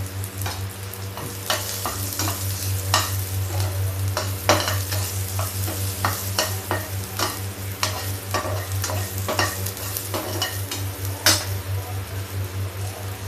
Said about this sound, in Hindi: जीरा तड़क गया तो प्याज डाल दिए।